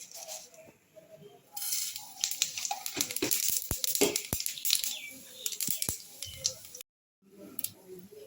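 Panch phoron spices dropped into hot oil while cooking Bengali pui shaak chochhori, a close burst of crackling and sharp popping sizzles that builds, then eases off before a brief silence and a softer return.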